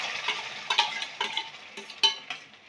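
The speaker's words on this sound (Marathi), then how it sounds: "आता हे छान हलवून घेतो" Wheat kheer with ghee stirred in a pot, a spoon scraping and clinking in a string of uneven strokes, close and moderately loud, with no voices.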